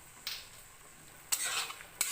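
A spoon scrapes and stirs peas with ground coriander and vegetable masala in a frying pan, a few brief scrapes over a faint, steady sizzle, close and quiet, with no talk.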